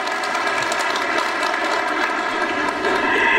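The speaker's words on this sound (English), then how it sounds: "Another round of applause for the incredible talent there" Applause from an audience at a university research week opening session, a steady dense wash of clapping filling the room without pause, with faint voices mixed in.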